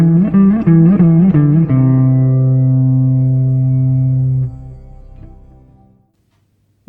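Guitar playing a simple pentatonic raga phrase: a few quick plucked notes with sliding pitch bends, then one sustained note that rings and fades out, heard alone.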